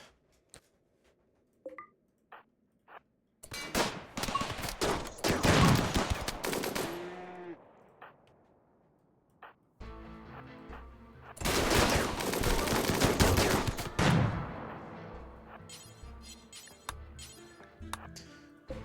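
Turret gunfire in the video game RimWorld: scattered clicks give way to two long, loud bursts of rapid automatic fire, each running several seconds before tapering off.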